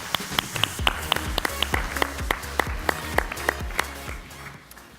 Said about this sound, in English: Big round of applause for Louise.